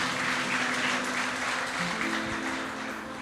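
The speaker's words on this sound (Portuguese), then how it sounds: "Vamos aplaudir a vida deles, gente." A church congregation applauds visitors in a dense, sustained wash of clapping that fills the room, with a tonal hum and a brief voice or instrument note underneath.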